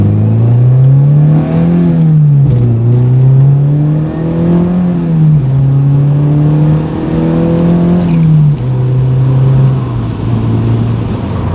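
A loud Mazda Miata with a 5-speed short shifter drones close by, its engine pitch rising and falling through repeated revs and shifts in a continuous, dominant roar.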